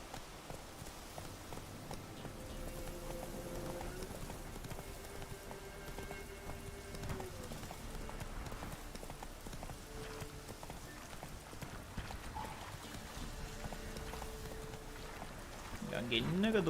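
Horse hooves clip-clop at a steady gallop in The Witcher 3, a continuous rhythmic thudding under music and ambient game sound with a rider's voice, holding even loudness throughout.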